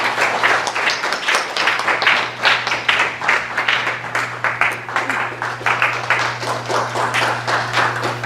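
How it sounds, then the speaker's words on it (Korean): A symposium audience claps to welcome a speaker, with dense, lively applause running steadily throughout, loud and close, a low steady hum beneath and no voices. "박수로 맞아주시기 바랍니다."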